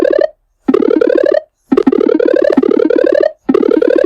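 PowerPoint mouse-over sound effect for a game: a bright, fast run of short rising tones, repeated three times with brief silences between, loud and close with no talking.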